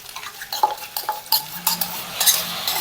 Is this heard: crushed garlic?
yes